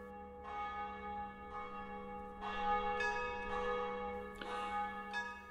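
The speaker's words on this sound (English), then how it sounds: "a peal of bells." A peal of church bells rings for a funeral in Vienna, with several overlapping bell strikes rising and ringing on in a full, resonant, steady wash throughout.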